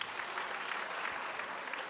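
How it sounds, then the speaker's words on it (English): Steady crowd applause at a university graduation ceremony, a dense wash of clapping at even loudness throughout, with no voices over it. "Can you give that a round of applause?"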